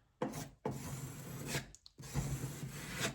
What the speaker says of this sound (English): what I like to do is just go down it with a bit of filler